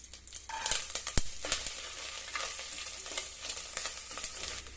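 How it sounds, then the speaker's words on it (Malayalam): Coconut pieces fry in coconut oil in a cooker, giving a quiet, crackling sizzle with scattered clicks and scrapes from stirring. "തേങ്ങാക്കൊത്തൊന്ന് ഫ്രൈ ആയിട്ടുണ്ട്"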